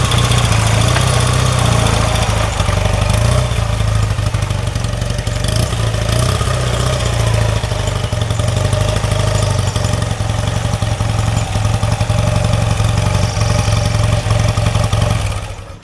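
An old motorcycle, a 1977 Triumph Bonneville or 1973 BMW R90/6, idles loud and close with a steady low, throbbing engine note that holds unchanged throughout before cutting off at the very end.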